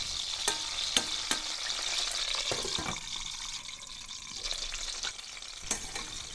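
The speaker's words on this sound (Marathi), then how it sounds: "झाकण ठेवून 5 मिनिटे परतून घेऊया। वांगी मधून मधून 2-3 वेळेस हलवूया" Eggplant pieces fry in a pan with a moderate, even sizzle, punctuated by sharp clicks and scrapes as they are stirred, the hiss easing slightly midway.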